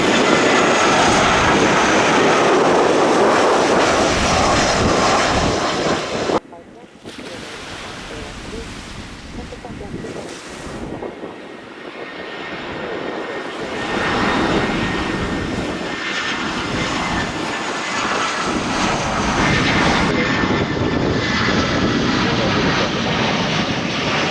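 Passenger jets landing on runway 27 at Gibraltar, heard from the beach as a loud, sustained engine roar that dips and swells as each aircraft passes, with wind and surf underneath.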